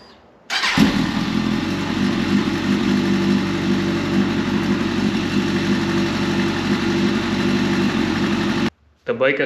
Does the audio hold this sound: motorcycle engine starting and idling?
yes